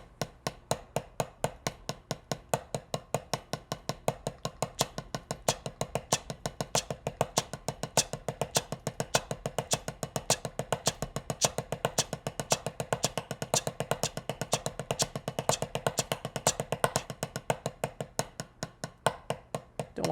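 Drum sticks strike fast, even sixteenth-note strokes in a beginner counting exercise, a dense steady rattle of sharp hits held for about twenty seconds, fairly quiet and with no voice.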